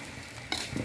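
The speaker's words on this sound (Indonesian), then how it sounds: "ini harus dimasak lagi biar benar-benar kering. Dan harus tetap diaduk-aduk agar bagian bawahnya tidak" Grated coconut sambal stirred in a dry pan as it toasts until crisp, a steady soft sizzle with a brief scraping stir partway through, close and fairly quiet.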